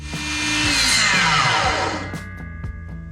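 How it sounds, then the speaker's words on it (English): A miter saw chops wood spacers to 2-inch lengths: the motor whines up loud and steady, the blade runs through the cut, then the pitch drops as it spins down, with a few knocks of wood being handled at the end. "I'll move over to the miter saw and chop them all onto 2-inch lengths"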